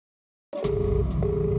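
A phone call that goes unanswered, with a steady electronic tone beginning abruptly after a brief silence and pulsing on and off in even beats, close and fairly loud with no voices.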